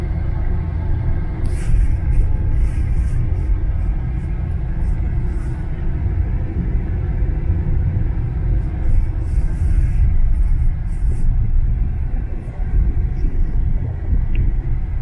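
Car engine rumbling on an uphill climb near Fort Hancock and Sandy Hook, a low, steady drone heard from inside the car with brief bursts of hiss above it and no clear talk.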